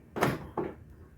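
A Toyota FJ Cruiser door being locked with a flip key: two short mechanical clunks about a third of a second apart, close and fairly loud, followed by quiet.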